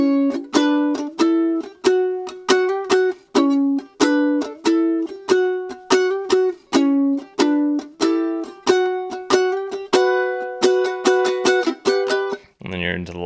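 Ukulele picking a riff, a steady, evenly spaced pattern of bright plucked notes repeating close up, played alone and ending on a strum.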